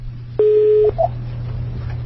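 One loud, steady telephone keypad tone sounds for about half a second, followed by a brief chirp, all over a low background hum during a phone call.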